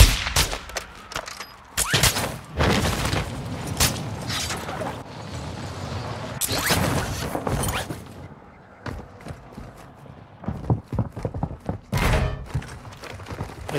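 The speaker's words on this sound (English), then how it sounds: "I'm taking fire!" Heavy gunfire in the Call of Duty DMZ video game: loud bursts and single shots crack repeatedly over nearly fourteen seconds, with thuds and mechanical clatter between volleys and a few brief voices.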